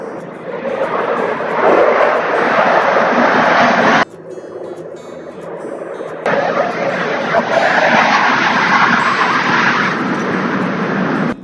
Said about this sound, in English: I don't remove the background noise and let you dears hear the plane noise